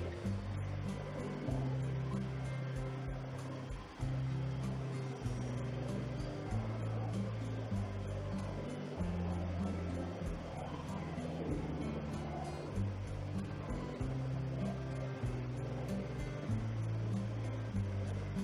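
Racing game engine drone from GT Racing 2 on a phone: a steady, moderately loud motor hum with repeated rises and drops as gears shift, running continuously without talk.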